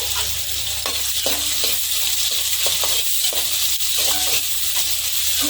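Onions and green chillies fry with cumin seeds in hot oil, giving a loud continuous sizzle broken by repeated scraping stirs of a spoon against the pan.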